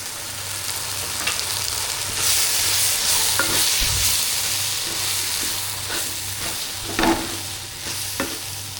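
Chicken curry with turmeric sizzles and crackles in a hot pan, with occasional stirring scrapes and a low steady hum underneath.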